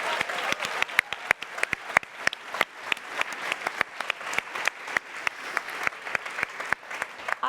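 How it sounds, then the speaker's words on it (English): Finalists at the Falling Walls Venture 2019 pitch event receive applause: a fairly sparse crowd clapping, with loud, sharp individual claps standing out near the microphone in an uneven, continuous patter. "So a huge round of applause to all of you for being courageous enough."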